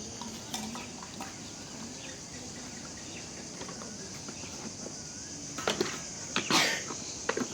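Fish sizzles in a pan with ginger garlic paste, a steady close frying hiss with a few spoon or pan clinks toward the end.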